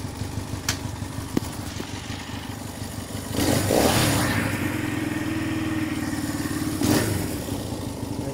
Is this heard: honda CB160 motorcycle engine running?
yes